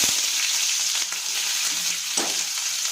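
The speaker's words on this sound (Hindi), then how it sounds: "जीरा क्रैकल होने लगा है। अब हम डालेंगे प्याज।" Onion dropped into hot oil with crackling cumin seeds gives a loud, constant frying hiss, with a few sharp stirring clicks over the steady sizzle.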